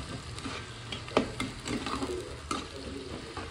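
Vegetables for pav bhaji sauté in a pan, a soft continuous sizzle broken by light, irregular stirring scrapes and taps, heard close and fairly quiet.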